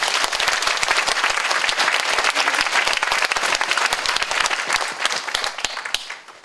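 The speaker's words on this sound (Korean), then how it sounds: "큰 박수 부탁드립니다" Sustained audience applause fills a symposium hall, dense steady clapping from many hands that holds loud throughout and thins slightly at the very end.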